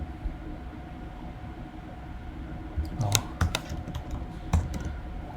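Keystrokes on a computer keyboard while coding a Node.js Express app, a short burst of separate clacks in the second half over steady low room hum, fairly close.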